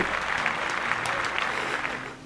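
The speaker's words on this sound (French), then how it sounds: "On applaudit." Applause in a short, dense burst of clapping that stays steady and fairly loud for about two seconds before tapering off slightly at the end.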